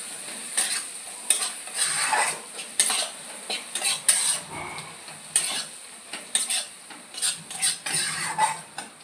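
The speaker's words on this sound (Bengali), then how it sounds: "এবার ভালো করে মিশিয়ে নেব মশলাটা।" Chicken gravy masala with chili powder and kasuri methi being stirred and mixed in a pan, repeated close metallic scrapes and clinks of a spoon over a light sizzle, in uneven strokes throughout.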